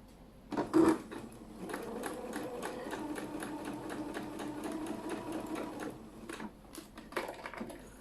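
A sewing machine stitches a quarter-inch seam through fabric for a patchwork quilted shopping bag, a steady, close, busy whir that runs for several seconds after a brief bump, with no talking.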